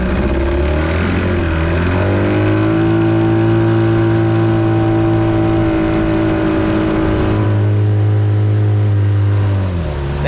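A Carolina Skiff's outboard motor runs at full throttle for a steady, loud drone that holds for several seconds, then dips slightly in pitch near the end. The carburetor may need a rebuild.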